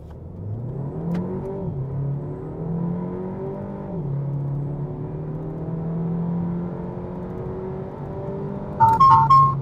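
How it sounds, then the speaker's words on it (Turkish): A 2020 Renault Megane Icon with a 1.3 TCe engine, in sport mode, accelerates hard from 0 to 100 km/h, engine note climbing and dropping through several gear changes from inside the cabin, ending with a short chime. "0-100 hızlanma. Şimdi."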